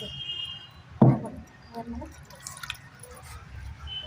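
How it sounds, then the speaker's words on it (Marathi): Water splashes sharply over a stone grinding slab once as it is washed, followed by softer wet swishing and dripping sounds nearby. "सगळा पाटा धुवून घ्यायचा आणि पाणी काढून काढून घ्यायचं"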